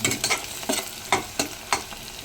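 Onions sizzle and fry in oil in a pan while being stirred, a steady crackling hiss broken by repeated scraping strokes of the spoon, heard close up with no talking.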